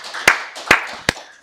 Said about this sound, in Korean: 우리 박수를 하나님께 영광 드리겠습니다.